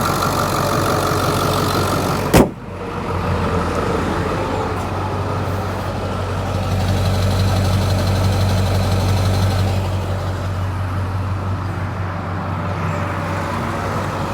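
A 2002 Ford Excursion Limited with a 7.3L Powerstroke diesel V8 idles steadily up close, a low, even rumble with a single sharp knock early on.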